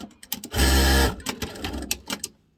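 A commercial sewing machine runs without making stitches, giving a loud, close mechanical whir in one short burst, then rapid uneven clatter and knocks as the mechanism turns.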